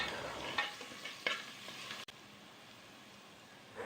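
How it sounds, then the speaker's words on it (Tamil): Bay leaf, clove, cardamom and a small piece of cinnamon sauté in a pan for beef biryani, giving a soft steady sizzle with a few quick stirring scrapes early on, then a quieter hiss. "ஒரு பே லீஃபு, ஒரு கிராம்பு, ஒரு ஏலக்காய், ஒரு சின்ன பீஸ் பட்டை எல்லாத்தையும் போட்டு வதக்கிடலாம்"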